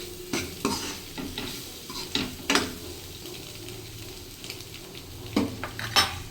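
Chili powder being stirred and roasted in a pan for egg curry, giving steady scraping stirs with soft sizzling and a few sharp utensil clinks against the pan, close and fairly loud.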